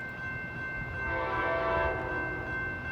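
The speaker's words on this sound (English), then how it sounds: "we have Amtrak train number 508 again" Amtrak passenger train 508 passes near a rail yard, sounding a steady chord horn over a low rolling rumble that swells briefly and then eases.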